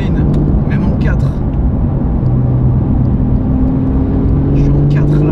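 Porsche 911 Sport Classic with a turbocharged engine and manual gearbox, pulling hard in fourth gear above 3000 rpm; a loud, steady engine drone with rising harmonic tones, heard from inside the car while a person talks over it.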